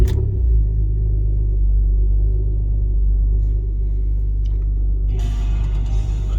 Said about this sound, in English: this is a totally cold startup test